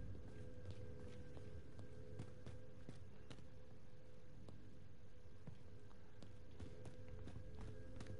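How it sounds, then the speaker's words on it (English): Footsteps in a PS4 online shooter game, a string of faint, quick thuds spread across the stretch, low in level under a steady background hum. "I hear footsteps."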